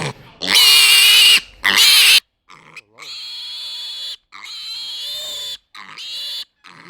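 Hereford piglet on a homestead squealing loudly up close, in a series of shrill, drawn-out squeals broken by brief gaps, the first bursts the loudest.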